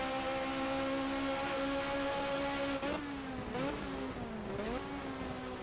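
A Toyota race car in the GTR2 racing game holds a steady engine whine, then downshifts several times with sharp rising blips as the pitch drops, alone without speech.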